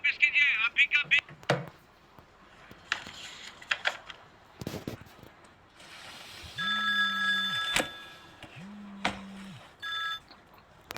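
A telephone rings twice in a row, with two loud bursts of electronic ringing separated by a short pause, following some earlier clatter and talk in an indoor scene.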